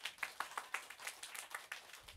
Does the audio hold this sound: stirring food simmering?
no